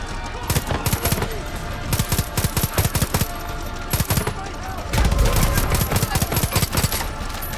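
Gunfire in Far Cry 5: rapid bursts of automatic shots in close, loud clusters, with a heavier barrage near the end.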